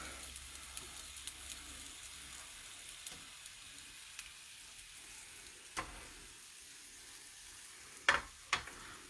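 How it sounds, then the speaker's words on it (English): Wontons fry in a little oil in a skillet, giving a quiet, steady sizzle with a few sharp pops and crackles near the end. "to show you what the wontons look like as they cook up, we'll put some of these wontons in here as well"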